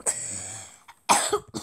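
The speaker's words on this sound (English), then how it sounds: "Oh, frick, I've got a bad cough." A person coughs several times during a Plants vs Zombies game session: a sharp cough at the start, then a louder harsh cough burst with short rough follow-ups, close and dry.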